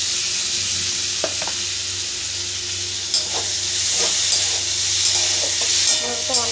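Small diced paneer cubes, 150 g, frying with cumin seeds in a pan give a loud, steady sizzle and hiss, broken by occasional scraping and clicking of a stirring spoon, with no talking.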